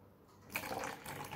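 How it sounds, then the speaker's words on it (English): Water is poured back into containers, a short bright splashing pour starting midway after a quiet moment, close and fairly soft. "I'm just going to pour it back into their containers"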